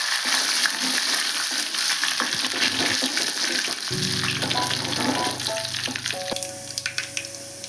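Curry leaves, dried red chillies and tempering spices sizzle loudly in hot oil for a tomato and dried fenugreek curry, with a steady crackling fry that grows busier midway as fresh leaves hit the pan, close and continuous with no talking.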